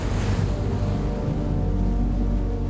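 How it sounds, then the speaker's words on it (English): Rough Atlantic swells at sea from a sailing boat in darkening weather, giving a steady, loud wash of water and wind rumble that holds for the whole stretch with no voices. "Atlantic swells begin to rise,"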